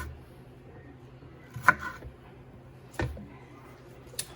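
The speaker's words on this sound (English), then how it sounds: "I just cut up my onion" Knife cuts through an onion on a board in a home kitchen: three sparse, quiet chopping knocks spaced about a second or more apart, with a low background hum between them.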